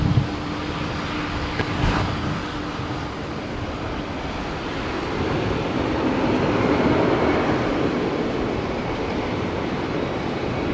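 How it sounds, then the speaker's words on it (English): A loud De Havilland Dash 8 turboprop at Brisbane Airport produces a continuous broad drone and rumble that builds in the second half of the clip, with no voices. "I can hear your ambient, yes. Yeah, it's a bit loud. The Dash 8."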